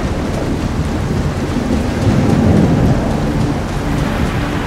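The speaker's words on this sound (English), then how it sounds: "Hell of a storm we're in the middle of here." A thunderstorm in a survival video game: heavy rain pours steadily while low thunder swells and rolls through the middle, loud and enveloping, with no voices.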